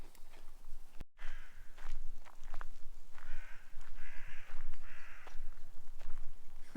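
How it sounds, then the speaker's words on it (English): Crows cawing in a northern forest, a series of harsh calls repeating at irregular intervals, moderately close, with rustling footsteps and ambient outdoor noise underneath. "The crows are freaking screaming in the forest."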